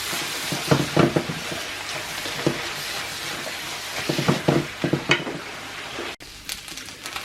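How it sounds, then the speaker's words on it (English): Mirepoix sizzles steadily in a pan for lasagna as the water cooks off, a continuous crackling hiss with occasional louder spits and a brief stir, no talking. "look for that nice little sizzle"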